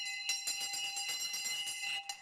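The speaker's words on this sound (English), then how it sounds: "Before I ring the bell, I have to take the hearing aid out of my right ear." A handbell rung repeatedly by a town crier at a town council meeting, a rapid, bright, ringing clang sustained loudly for a couple of seconds with a brief pause near the end.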